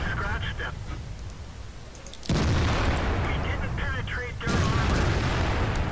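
Tank cannon shots in a tank video game, two heavy booming blasts about two seconds apart that raise the overall level and leave a sustained rumble, with background battle noise throughout.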